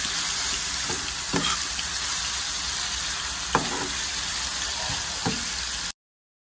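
Food sizzles steadily in a hot frying pan while a utensil scrapes and knocks occasionally as tilapia sarciado with carrots is stirred, then the sound cuts off.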